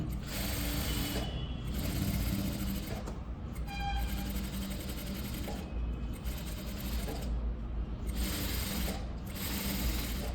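A sewing machine stitches thread piping onto a velvet blouse, running in long steady bursts with brief pauses between them, close and alone.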